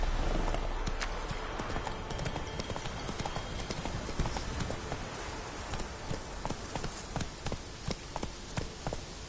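Horse hooves clip-clop steadily as a horse is ridden in the video game Witcher 3, a dense rhythmic patter of close, loud hoofbeats over a busy background, with occasional voices.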